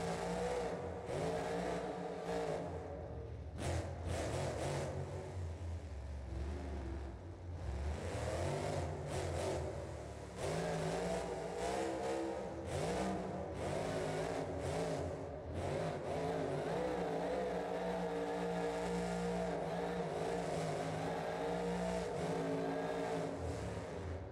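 The Bigfoot 19 monster truck engine in BeamNG.drive revving and roaring continuously, its pitch rising and falling with throttle, loud and sustained with no voices.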